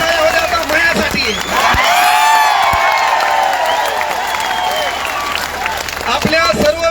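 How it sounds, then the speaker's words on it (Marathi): Loud applause from a large protest gathering demanding offline exams: thick, continuous clapping with shouts and cheers layered over it, staying strong throughout. "आणि एकदा जोरदार टाळ्या होत्या आता मायासाठी."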